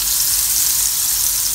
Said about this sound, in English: There's something sizzling in the kitchen today.